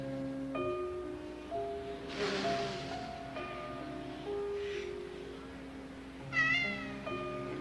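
A cat meows repeatedly in a pitched, wavering call over a few seconds, with a sharper, louder cry near the end, close by indoors against soft background tones.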